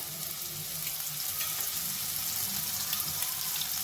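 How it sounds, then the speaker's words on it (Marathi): Vegetables hit hot ghee with crackling cumin seeds in a pan, giving a steady, close, continuous sizzle and hiss with no talk over it. "जिरं तडतडली आता आपण एक एक भाज्या घालूया"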